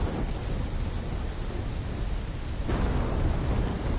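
Thunderstorm ambience in the Black Ops 3 campaign, a steady loud wash of rain with low rumbling thunder rolling underneath throughout, swelling slightly near the end.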